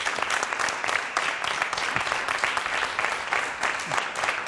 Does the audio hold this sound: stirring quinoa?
no